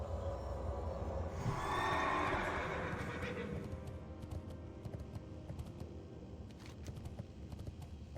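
A horse mount in World of Warcraft Classic whinnies near the start and then keeps up a steady quick trot of hoofbeats over an ambient game background, with no talking.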